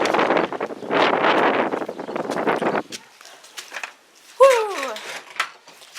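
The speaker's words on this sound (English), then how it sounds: "It's a busy, busy day today, and also a windy, windy day today." Outdoors on a windy day, gusts buffet the microphone in loud rumbling bursts, then ease off into quieter rustling with a brief chirp-like sound.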